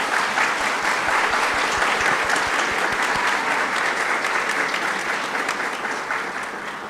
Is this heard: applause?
yes